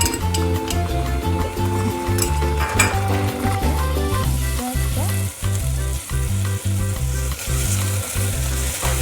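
Sliced onions fry in hot oil with whole spices and a teaspoon of ginger garlic paste, giving a steady, loud sizzle that runs throughout over a melodic, rhythmic backdrop.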